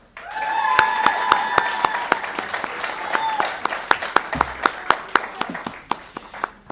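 A board meeting audience applauds tenured teachers from a school district, starting with dense clapping that thins into sparse, distinct individual claps, with faint talk underneath.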